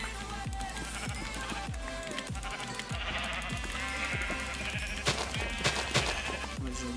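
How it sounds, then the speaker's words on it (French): Sheep bleating in the Minecraft video game, repeated blocky bleats over a steady rhythmic thumping music or game background, with no talk. "On va déjà buter tous ces moutons là."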